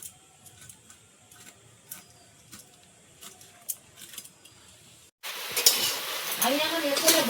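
Flat beans are set to fry in a pan. Quiet scraping and clicks come first, then a sudden loud, dense sizzle bursts in as the beans hit the hot oil and keeps going close up.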